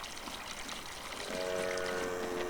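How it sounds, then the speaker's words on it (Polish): Milk pours from a tap in Farming Simulator 19 with a continuous watery splash that grows fuller and more tonal halfway through, heard alone. "nalewacie po prostu z kranu"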